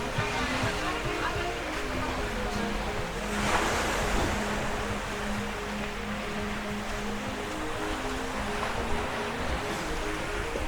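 Surf washes onto a beach on Lembongan island in a steady roar of breaking waves, with wind buffeting the microphone and a voice talking faintly now and then over the water.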